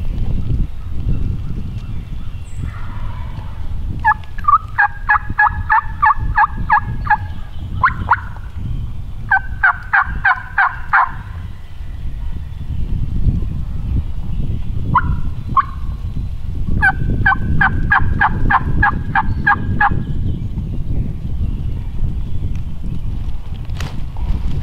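A wild turkey gobbles in repeated rattling bursts at close range on public land during a hunt, interspersed with low drumming pulses and gaps of quiet rustling.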